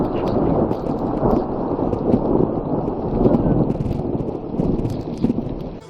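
Thunder rolls through a snowy spring storm at a Maine ski area, a sustained low rumble with rain-like hiss and wind buffeting the microphone, loud and close throughout.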